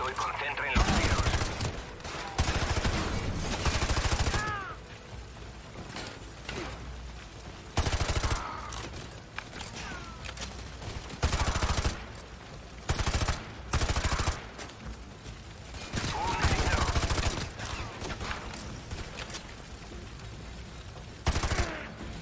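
Bursts of rapid gunfire from the video game Modern Warfare 2 Remastered crackle in repeated volleys, loud and dense, with people talking in Spanish in between and over the shooting.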